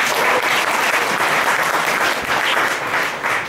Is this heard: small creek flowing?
no